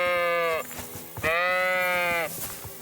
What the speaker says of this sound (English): Is it this hard to herd sheep?